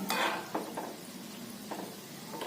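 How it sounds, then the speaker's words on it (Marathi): Instant gulab jamun made from a Chitale mix fry in oil over a low flame while being stirred, a soft continuous sizzle under repeated scraping and clinks of a utensil against the pan, close by and without talk. "आणि पूर्ण तेल हलवत राहायचं तेल हलवल्यामुळे सगळ्या बाजूनी छान तळलं जातं"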